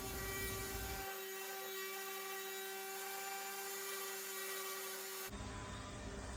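A wooden dresser is sanded with 120 grit sandpaper, producing a continuous, even rough hum with a steady tonal whine and no talk.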